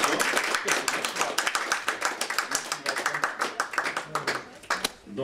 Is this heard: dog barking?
no